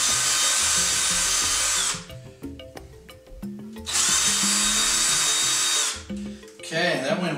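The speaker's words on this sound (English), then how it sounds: "My tool of preference, though, is my handy dandy power drill." A handheld power drill boring into a coconut runs in two loud, steady bursts of whining, with quieter handling noises between them and a third burst starting at the end.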